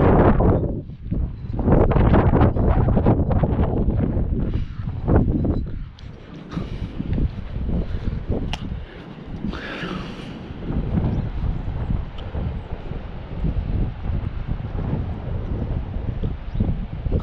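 Strong wind buffets the microphone by a creek in Red Creek, New York, in loud, continuous rushing gusts, with a low rumble throughout and a slight easing toward the middle.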